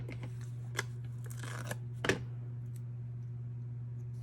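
Scissors snip through card stock for a handmade card, a few sharp close clicks with one louder cut near the middle, over a steady low hum and no talking.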